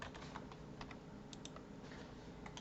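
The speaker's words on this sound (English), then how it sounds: "I'm going to type that in here." Keys clatter on a computer keyboard in a quick, steady run of light clicks over a constant background hiss. No one speaks.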